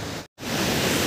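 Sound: waterfall near Kanha Kisli National Park

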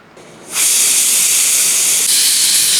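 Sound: pressure cooker whistling, cooking mutton curry

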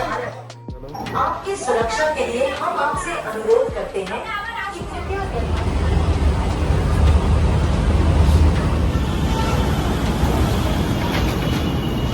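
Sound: train departing from Parasnath station

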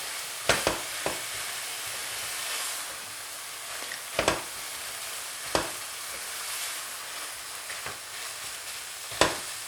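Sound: stirring starch mixture cooking in pot for carrot apple cezerye

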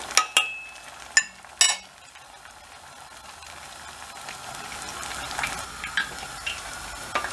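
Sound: potato balls frying in oil

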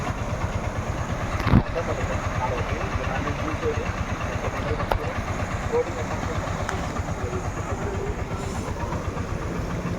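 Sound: motor engine running

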